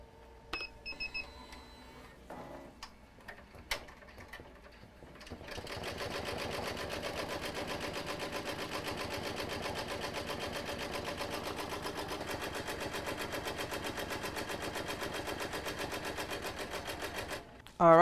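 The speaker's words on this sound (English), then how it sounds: "we've now finished embroidering on the 8-in-1 device for the back of the cap" An embroidery machine running an 8-in-1 cap device stitches a design on the back of a cap, a fast steady mechanical needle rattle that starts after a few beeps and runs evenly for about twelve seconds.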